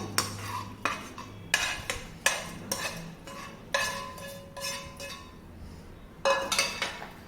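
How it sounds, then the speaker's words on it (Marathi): Okra goes into a vessel with a spoon stirring and scraping it, giving a run of close metallic clinks and knocks at an irregular pace, with no one talking. "आता यामध्येच आपण भेंडी पण घालून घेऊया"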